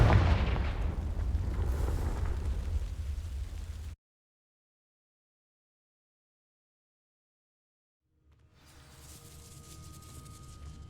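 A fire spell cast in a video game bursts with a loud, booming blast that sets dry vines alight. The roar cuts off abruptly into silence, and a quieter rumbling ambience returns a few seconds later.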